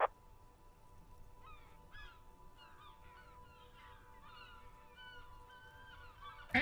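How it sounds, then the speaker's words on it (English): Seagulls calling as a flock takes off in the Disco Elysium video game, a string of faint squawks and cries over a quiet hum for several seconds. "A flock of seagulls takes off nearby, startled by the roaring."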